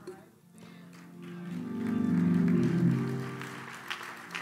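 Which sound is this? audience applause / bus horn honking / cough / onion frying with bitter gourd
audience applause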